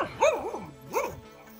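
A neighbor's dog barks twice in a rural Traslasierra, Córdoba, Argentina setting, two close, clear yelping barks spaced about a second apart, with quiet background between them.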